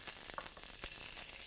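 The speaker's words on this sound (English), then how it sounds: "now we put one piece of butter. And we leave it melt the butter nice." Butter melting in a hot frying pan while making chicken francaise, giving a steady close sizzle with faint crackles throughout and no voices.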